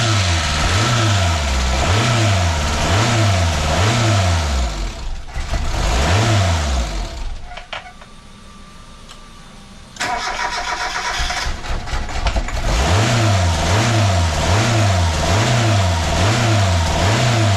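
Mazda Miata engine after a timing belt job starts and surges, its revs rising and falling in a regular loud cycle, briefly dropping to a quiet lull before the surging resumes, recorded close with no talk.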